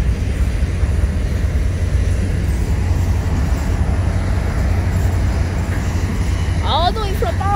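Low rumbling of an FEC and BNSF freight train passing near Jacksonville, steady and loud throughout, with a brief higher squeal near the end.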